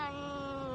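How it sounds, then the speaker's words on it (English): A cat's drawn-out, tonal meow or caterwaul, played back as a short recording, one continuous cry that is loud and close and sounds alone. "That's a cat from the deep south."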